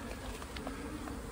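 A honey bee swarm drones in a steady, dense buzz, faint and continuous with no pauses.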